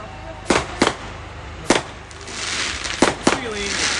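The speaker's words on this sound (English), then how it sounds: "I'm a cat, I don't like fireworks" Fireworks burst at an outdoor bonfire night in Corcrain, about five sharp bangs at irregular intervals over a hum of crowd noise, with background chatter and a faint whistle late on.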